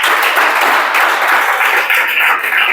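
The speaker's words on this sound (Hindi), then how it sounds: "ताली बजाओ जल्दी।" Applause from a classroom of students during a coaching lesson, a dense, steady burst of many hands clapping close by for about three seconds with no talk over it.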